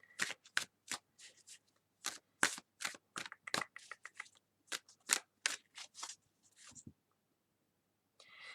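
Close, crisp riffling of a Tarot Mucha card deck being shuffled, a rapid series of sharp card flutters that trails off into quiet near the end.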